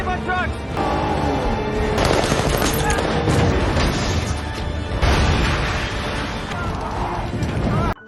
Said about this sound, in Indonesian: mereka pun terjadi kontak tembak selama perjalanan menuju ke bendungan